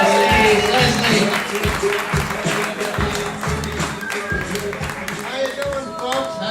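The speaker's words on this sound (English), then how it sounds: "Give it up, everybody, for the birthday boy, Leslie Goldstein, everyone" An audience claps and cheers for the birthday boy at a birthday show. The applause is loud and continuous, with a speaking voice over it.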